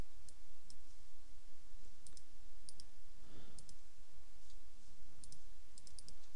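Computer mouse clicking at a desk, a sparse series of crisp close clicks, some in quick pairs, over a steady low hum, with no talk.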